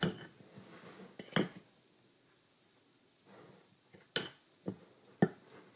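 Ingredients for a homemade outdoor bug-repellent spray are mixed in a container, with scattered clinks and knocks against the vessel between quiet stretches.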